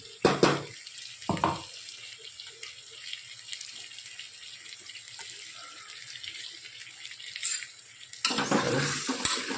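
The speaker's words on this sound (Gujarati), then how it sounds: "સરસ બધું મિક્સ કરી લઈએ." Spiced masala and chopped tomatoes are stirred and mixed in a pan, with soft scraping and stirring close by between a few louder clatters at the start and end.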